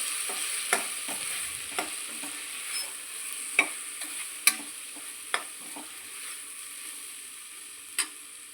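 Red chilli powder, turmeric, moringa powder and coriander powder get mixed into masoor pulao in a pan, with a soft continuous sizzle and a scatter of sharp spatula clicks against the metal, close and without talk.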